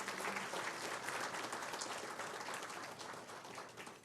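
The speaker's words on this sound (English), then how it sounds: "Give them a big applause." Audience applause fills a graduation day ceremony hall, a dense, steady wash of many hands clapping throughout that eases off slightly toward the end.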